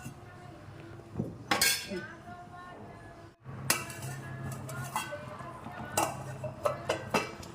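A metal lid goes onto a pot of prasadam cooking on the stove, giving several sharp clanks and clinks of metal on metal against faint kitchen background.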